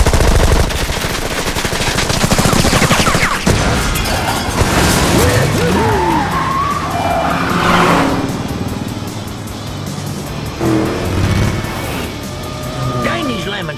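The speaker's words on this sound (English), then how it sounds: "Gatling gun activated." A Gatling gun rattles off rapid fire in the Cars 2 racing game while car engines rev and roar, with crashes and booms mixed in and voices speaking over the loud, busy action.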